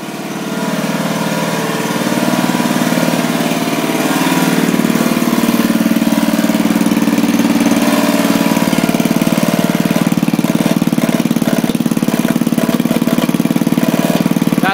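A small Briggs engine runs steadily and loudly for the whole stretch, with a rough, buzzing vibration riding over its low drone. No voices.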